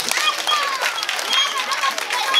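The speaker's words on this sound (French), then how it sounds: "Applaudissez pour vous-même." Audience applause at a public school excellence prize ceremony, steady dense clapping filling the whole stretch with a few shouts or whistles mixed in, fairly close and loud.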